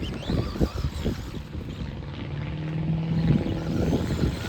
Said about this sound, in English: good to see we've got a plane in the background